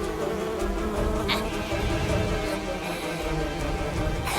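Cartoon bee buzzing steadily throughout, a continuous insect drone layered over busy background sound and music in an animated children's show.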